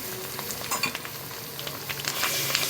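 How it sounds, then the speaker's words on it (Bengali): Ginger-garlic paste fries together with onion paste in a pan, a close, steady sizzle broken by scraping stirs and light utensil clicks, with no talking. "আদা রসুন বাটা আবারও এদের কাঁচা গন্ধ যাওয়া পর্যন্ত একটু ভালো করে ভেজে নেব"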